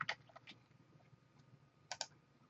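Keystrokes on a computer keyboard: a few scattered clicks, then a quick double tap near the end, close and fairly quiet, with no talking.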